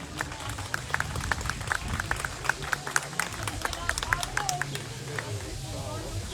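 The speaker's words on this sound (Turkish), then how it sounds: "Doktor Ahmet Maranki hocamızı coşkulu alkışlarınızla huzurlarınıza davet ediyorum efendim." Audience at an outdoor culture and arts festival in Abana claps to welcome a speaker, steady rhythmic handclaps spread across the crowd, moderately loud, with scattered voices and murmuring underneath.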